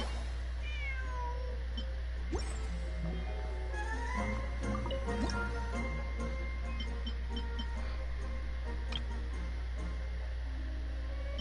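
A cat meows repeatedly in Genshin Impact during the Feline Fortress Furrdyssey event, rising and falling cries scattered across the clip over a steady low game hum, with no talking.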